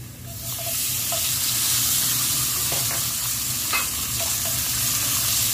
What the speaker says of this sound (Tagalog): Igigisa lang natin to. So, papulahin natin ng bahagya yung ating liempo sama ng ating onion at saka yung ating garlic.